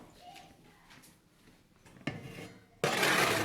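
Metal bread pans scrape and clatter into a wood-fired stove oven, with a soft rub followed by two sharp, louder metallic bangs close by.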